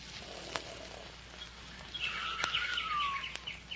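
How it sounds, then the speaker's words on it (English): A few birds begin twittering at dawn as a 1947 old-time radio drama sound effect, thin chirps and a rising warble over faint background hiss, fairly quiet and without speech. "Few birds are beginning to twitter."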